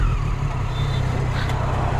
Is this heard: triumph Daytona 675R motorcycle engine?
yes